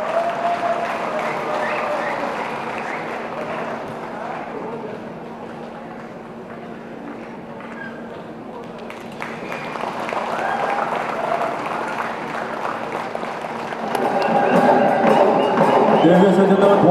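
Audience applause at the inaugural function of a folk music festival in Namsai, Arunachal Pradesh, a steady crowd clapping that swells louder toward the end, with a low steady hum and some voices mixed in.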